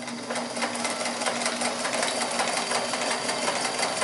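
A Sears Kenmore 158.14100 all-metal sewing machine runs a back-and-forth stitch, giving a loud, close, steady rapid clatter that continues without pause.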